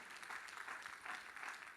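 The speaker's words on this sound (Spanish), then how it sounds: "Denle ese aplauso al Señor" A church congregation claps for a man during a pastor's sermon, a faint, distant patter of many hands that swells and eases in uneven waves.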